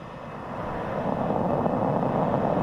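SpaceX rocket engines igniting at a California launch, a deep broadband roar that swells steadily and stays loud and rumbling, heard from a distance.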